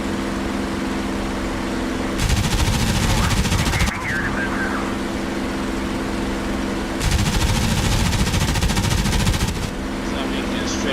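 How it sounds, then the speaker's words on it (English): P-51 Mustang machine guns in the DCS flight sim fire two sustained bursts of rapid, loud gunfire during a strafing run, each lasting a couple of seconds, over a constant droning aircraft engine. "So I'm making a strafing run here."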